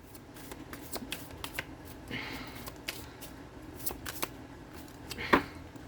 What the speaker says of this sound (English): and then I pull cards